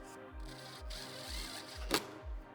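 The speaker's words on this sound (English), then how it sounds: "Now I'm going to start to screw this." A power driver whirs in short repeated bursts while screwing the back panel onto a Makita MakPac van racking unit, quiet rhythmic pulses at roughly half-second intervals with one brief sharp click.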